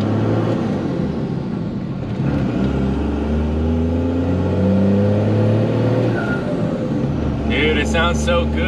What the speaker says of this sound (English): Sounds so good when you shift, man. Can't wait for my truck to sound like this.